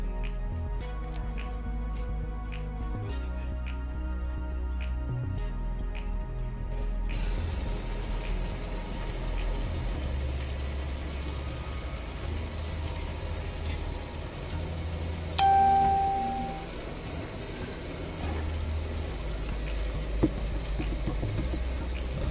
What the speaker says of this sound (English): my existing garden hose, fill the tank